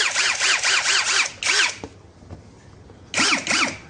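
Brushless 13mm motor test-firing in short bursts: several rapid whirring spin-ups and spin-downs, a pause with faint clicks, then another burst, close and loud, with no talking.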